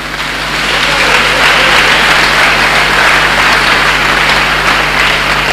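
A church congregation applauds to acclaim the Lord, a loud, dense, sustained wash of clapping from many hands that swells in after a brief quieter start and holds steady.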